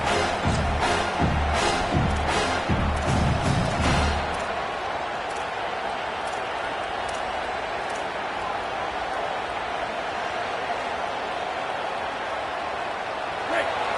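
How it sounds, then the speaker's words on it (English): A stadium crowd roars at an American football game as the defense lines up on third down, a loud sustained wall of noise with thumping impacts early on and talk mixed in. "Decibels rising as the crowd gets behind this defense on third down."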